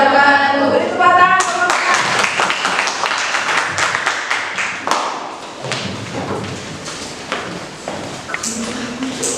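A class claps after a student presentation in an economics lesson, a burst of hand claps and thuds that starts loud and then thins out into scattered claps, with voices over the start.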